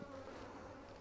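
Honey bees buzzing around a hive frame heavy with pollen-laden workers, a steady close drone with a faint wavering pitch, sustained and quiet for a moment with no talk.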